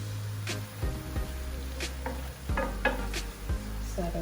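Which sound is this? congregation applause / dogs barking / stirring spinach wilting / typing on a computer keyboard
stirring spinach wilting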